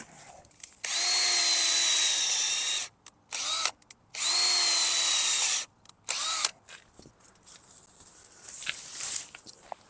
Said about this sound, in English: Let me re-drill all 4 of them.